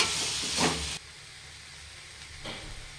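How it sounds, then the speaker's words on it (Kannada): Vegetables and tomato fry in a pan with a hissing sizzle, loud for the first second, then dropping to a quieter steady crackle with a brief flare near the end. "ಇದೆಲ್ಲ ತರಕಾರಿ ಟೊಮೊಟೊ ಎಲ್ಲ ಸ್ವಲ್ಪ ಸಾಫ್ಟ್ ಆಗೋವರೆಗೂ ಫ್ರೈ ಮಾಡ್ಕೊತೀನಿ"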